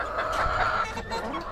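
Several white chickens cluck and murmur close by in a steady, overlapping chatter.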